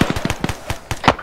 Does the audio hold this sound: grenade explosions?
yes